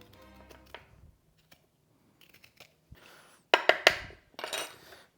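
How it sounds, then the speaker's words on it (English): A metal spoon scrapes the skin off a small nub of fresh ginger: a few faint taps, then a cluster of sharp, close scraping strokes near the end, with no talking. "I'm just gonna use a spoon, and I'm just gonna peel this quickly"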